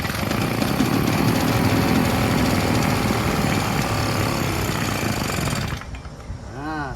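A Husqvarna 150BT two-stroke backpack leaf blower runs with a loud, buzzing, slightly uneven engine roar near the microphone for about six seconds. Then it drops away, and a fainter falling whine follows as the engine winds down.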